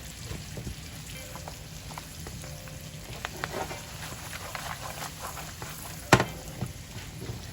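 Brown butter ravioli simmering in a pan, a soft steady sizzle with light popping and a sharp clink near the end, quiet and close with no voices.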